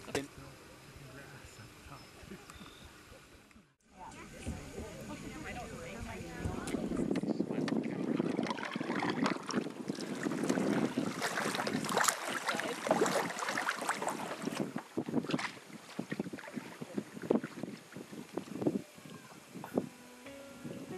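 A canoe paddled on the Red Deer River, with steady dips and splashes of the paddle in the water close by, running under wind noise on the microphone and occasional voices.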